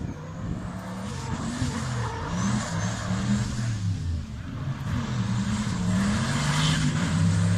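A drift car at a drift trial session in Braga, Portugal, accelerating and skidding on the track, its engine loud and close, revving up and down in long rising and falling sweeps, with tyre noise underneath and no talking.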